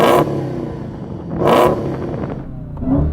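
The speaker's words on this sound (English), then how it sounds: "So I'm going to rev up this engine." A sports car engine, a Dodge Challenger Demon or Porsche 911 Turbo S, is revved hard in three sharp bursts up to a soft limiter at 4,500 RPM, each blip loud and close, with a rough idle rumbling between them.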